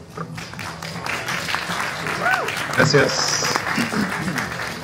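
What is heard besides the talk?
audience applause welcoming a speaker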